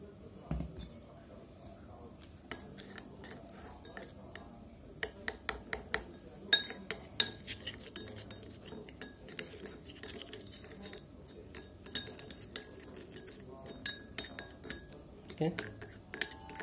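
A spoon stirs a carrot and milk face pack in a small bowl, making repeated light clinks and scrapes against the bowl at an irregular pace, close and fairly quiet.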